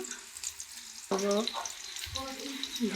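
Oil sizzles steadily in a hot pan as a spice paste fries, with bursts of crackling and a few stirring clatters over the frying hiss.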